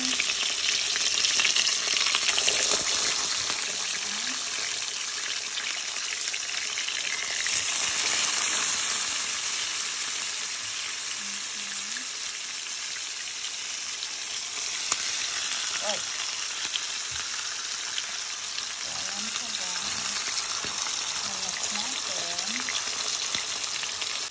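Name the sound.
luncheon meat frying in pan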